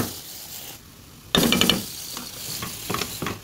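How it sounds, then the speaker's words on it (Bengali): Bean seeds are tipped into a pan of fried onion, setting off a sudden loud sizzle burst after a quiet start, then a lower ongoing crackle with light clinks of utensil against the pan. "আমি পেঁয়াজটা যে ভাজা হয়েছে সেটার মধ্যে সিমের বিচি দিয়ে দিচ্ছি"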